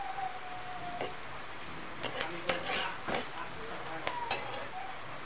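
Mustard seeds crackle and sizzle in hot oil in a pan for lemon rice, with soft scattered pops and a few scraping stirs over a low, steady frying hiss.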